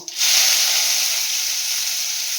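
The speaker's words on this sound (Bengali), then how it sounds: "এবারে আমি পেঁয়াজ কুচিগুলো দিয়ে দেবো" Chopped onions hit hot mustard oil already seasoned with whole cumin and bay leaf, bursting into a loud, steady sizzle and hiss that holds close and even for a couple of seconds with no talk.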